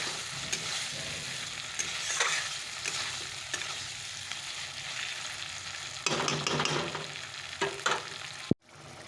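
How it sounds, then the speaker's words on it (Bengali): Spices sizzle steadily in hot oil in a pan while being sautéed for a Bengali fish curry, with a utensil scraping and stirring through the constant frying hiss before it stops abruptly. "চলো মশলাটা দিয়ে একটু কষিয়ে নিই তারপরে ঝোল দিয়ে দেবো"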